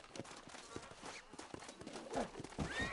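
A wild horse in Red Dead Redemption, with a few scattered hoof thuds and short snorts and breathy whinnying sounds that grow busier toward the end, close and fairly quiet.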